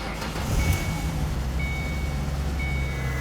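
A 2005-14 Ford Mustang engine running at a steady idle nearby, a constant low rumble with a faint high electronic tone sounding intermittently over it.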